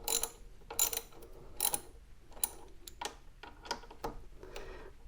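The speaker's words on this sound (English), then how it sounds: "That's a lot of wrenching to get this thing on." A ratchet wrench clicks in repeated bursts while tightening parts on a motorcycle during a tire change, with quick pawl ticks in uneven strokes, close and fairly quiet, and no talking.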